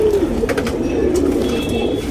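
A tournament racing pigeon coos steadily in a low, rolling pulse of throaty notes, close and fairly loud throughout, with faint higher chirps from other birds in the background.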